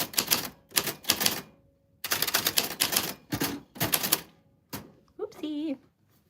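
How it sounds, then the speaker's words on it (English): Typewriter keys strike in quick bursts of clacks with short pauses between runs, ending in a ringing bell-like chime and a carriage sound, close and clear with no talking. "so Typewriter ASMR"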